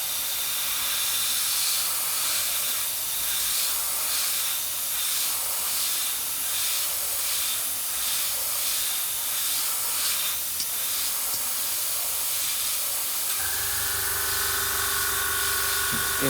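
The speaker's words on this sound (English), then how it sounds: "So let's airbrush this and see how we go." An airbrush sprays acrylic paint mixed with Amsterdam acrylic retarder and a few drops of water, giving a steady, close hiss for about thirteen seconds before cutting off into a quieter tonal hum.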